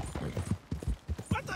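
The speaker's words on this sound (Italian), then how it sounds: "Facciamo sforzare un attimino il cavallo, ragazzi" A horse galloping in Red Dead Redemption 2, with quick, rhythmic hoofbeats thudding close and clear in repeated groups, and a voice heard briefly alongside.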